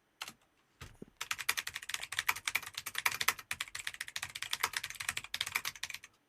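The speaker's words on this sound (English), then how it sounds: "it would annoy other people to hear my loud ass mechanical keyboard clacking away" A loud mechanical keyboard clacks away in a fast, steady stream of sharp keystrokes after a couple of isolated taps, close and dry with no voices over it.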